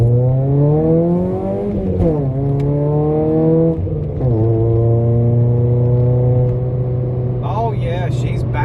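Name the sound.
car engine revving while driving, 1.7 liter old car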